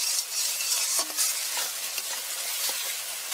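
Ground spice paste fries in oil for a boal fish curry, making a steady, close, dense sizzle broken by a few soft stirring scrapes.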